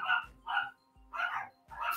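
Dog barking nearby, four sharp barks in an even rhythm with short pauses, loud and alone.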